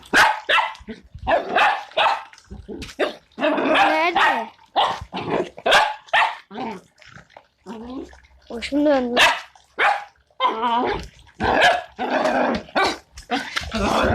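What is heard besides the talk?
dog barking and growling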